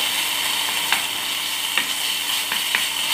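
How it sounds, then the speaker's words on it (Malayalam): Food sautés in a hot pan with a splash of soy sauce, a dense close sizzle broken by several sharp scraping clicks of a spatula stirring. "ഒരു teaspoon soya sauce soya sauce അധികം ആഡ് ചെയ്യേണ്ട അതിനൊരു കശപ്പ് വരും കുറച്ച് ആഡ് ചെയ്താൽ നന്നായിട്ടൊന്ന് വഴറ്റുക"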